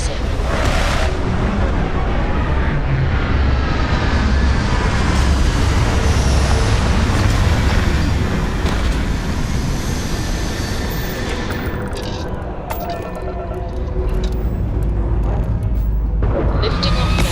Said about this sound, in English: Lifting off now.